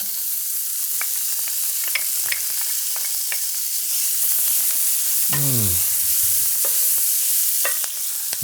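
Minced garlic frying in a pan with chicken makes a steady, close sizzle, with scattered light clicks and scrapes of stirring and one short squeak partway through.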